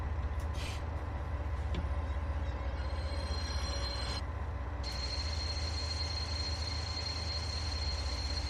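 Steady rumble of a freight and passenger train on the Maintalbahn in Train Sim World on Xbox, with high wheel squeal rising midway and holding as a long continuous whine while the train brakes to a stop.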